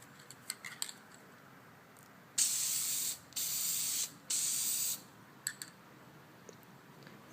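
An aerosol spray can lays a tint coat onto an LED tail light in three steady close-up bursts of hissing spray, each a second or so long, with faint handling clicks before and after.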